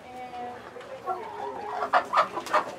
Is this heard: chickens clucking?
yes